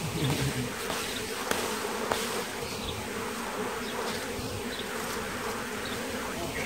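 A swarm of bees buzzes loudly and continuously at close range as it is scooped into a box, a dense droning hum with a few small knocks and no talk.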